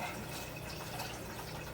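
A can of water pours steadily into a pot for egg drop soup, a continuous splashing fill with no break, close and moderately loud.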